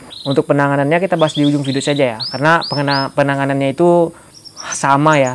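Canary chirping and trilling in rapid, loud, harmonic bursts close by, continuing through most of the stretch while someone talks over it.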